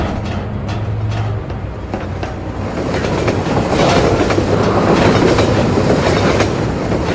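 A train in the video game Half-Life 2 rumbles past with steady wheel clatter on the tracks, loud and close, building slightly in intensity as it goes by.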